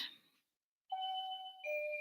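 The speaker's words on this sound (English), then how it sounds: "not the phone, the doorbell" A house doorbell rings with a clear two-tone ding-dong chime, the tones ringing out and sustaining close by in a quiet room, with no voices over them.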